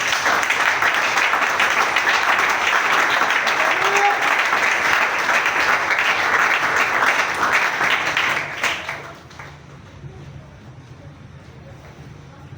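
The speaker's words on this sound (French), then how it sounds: "Est-ce que nous pouvons acclamer la parole?" A church congregation bursts into sustained, dense applause and clapping that fills the room for several seconds, then cuts off abruptly, leaving a quiet hall with faint background murmur.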